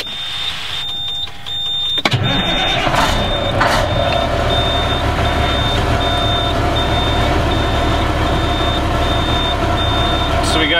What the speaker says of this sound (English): We're gonna fire up the truck, and we're just gonna quickly check the air buildup time.